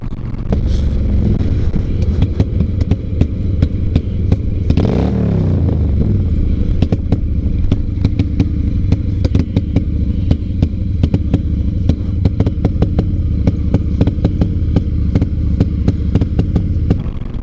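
A broken-down motorcycle ridden at the red line, its engine a steady loud drone with rapid clattering pulses throughout and a brief surge around five seconds, with no talk over it.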